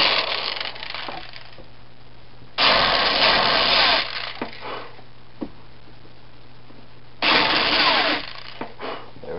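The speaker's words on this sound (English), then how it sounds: "so just lightly press the drill" A power drill runs in two loud bursts of a few seconds each while parts of a dual spin water filter are being built, with quieter handling noises and a steady low hum between bursts.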